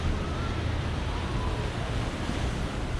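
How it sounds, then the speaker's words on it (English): Sea waves at Palmanova, Mallorca on an evening beach, a steady broadband wash of surf mixed with breeze, constant and fairly loud throughout with no voices. "There's quite a few waves there."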